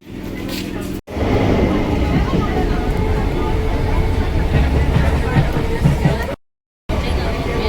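A passenger train bound for Sealdah pulls away with a steady loud rumble and rattle of the carriages, a babble of passengers around it and a short break near the end.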